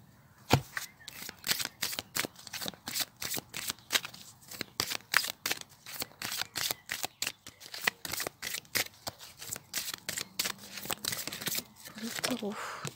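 Angel oracle cards are shuffled by hand in a long run of quick, crisp riffles and snaps, close and fairly loud, with a brief pause near the end.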